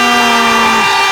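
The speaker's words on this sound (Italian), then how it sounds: "arriva la sirena" A loud, sustained siren blares at the end of a Serie A futsal match, a continuous harsh horn-like tone that drops off near the end, heard alone without commentary.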